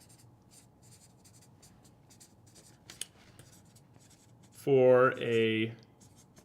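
A marker scratches in short, quiet strokes across a whiteboard during an equalizer training session, with faint squeaks and taps before a voice speaks briefly near the end.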